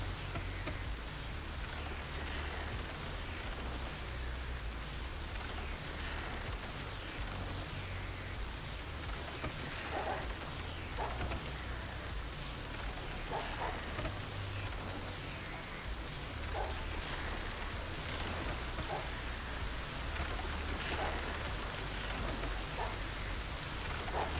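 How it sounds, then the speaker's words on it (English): Steady rain pours down in the Masterplan Tycoon video game, a dense, even hiss of drops that runs unbroken throughout at moderate volume with no voices over it. "Oh, there's rain coming."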